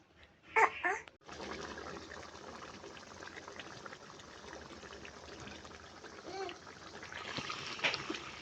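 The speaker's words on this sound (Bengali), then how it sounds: "এখন আমরা পরিমাণ মতো পানি দিয়ে নেব" Water is poured into a pan of spicy boal fish curry, a short splashing pour followed by steady bubbling and simmering in the pan.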